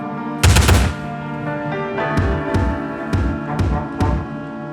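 A loud heavy artillery blast opens, followed by several spaced booming cannon shots over a steady musical drone, in a battle scene from the Ukrainian Revolution.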